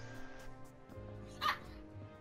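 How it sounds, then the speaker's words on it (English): Dogs bark faintly at a distance, with a single sharper yip standing out in the middle over a low murmur of background sound. "Dogs."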